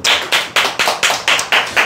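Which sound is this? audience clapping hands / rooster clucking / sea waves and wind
audience clapping hands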